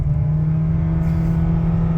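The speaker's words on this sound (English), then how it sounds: "There's that Honda engine." A Honda Clarity hybrid's gas engine roars under full acceleration in hybrid mode, giving a steady, close, droning hum that holds at a constant level, with no talking.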